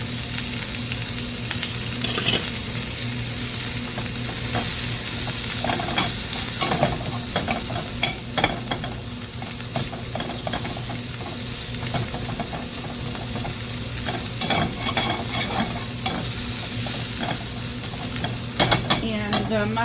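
Chopped onion frying in oil in a pan, a steady loud sizzle and crackle with occasional stirring scrapes throughout, no talk.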